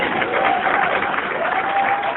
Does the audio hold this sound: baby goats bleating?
no